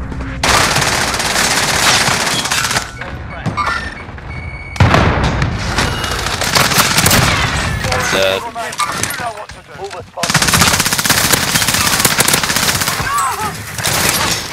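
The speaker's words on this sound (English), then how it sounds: "Cluster strike incoming." Cluster strike explosions and automatic gunfire in a video game, dense loud bursts of rattling fire and booms in long stretches broken by short lulls, with players talking over it.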